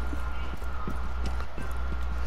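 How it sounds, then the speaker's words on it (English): Footsteps in Rainbow Six Siege, a run of soft repeated thuds with a steady cadence, low in the mix under constant game ambience and background noise. "I hear footsteps"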